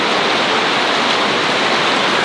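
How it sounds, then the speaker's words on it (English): Heavy rain pours down in a steady, dense hiss, loud and continuous with no pauses and no other sounds on top. "But it's raining. I haven't seen rain like this here in a long, long time."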